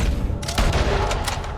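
Gunfire from a building in Red Dead Redemption 2, a few loud sharp shots cracking over a dense rumbling background within a brief burst.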